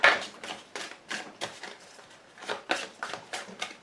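Tarot cards being cut and shuffled by hand, a rapid series of crisp papery riffles and slaps in irregular bursts, close and fairly quiet with no talking.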